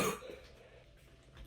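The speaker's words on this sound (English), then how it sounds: "my residual cough" A single short cough at the very start, close and quiet, from someone with a lingering post-COVID cough, followed by faint breathing and room noise.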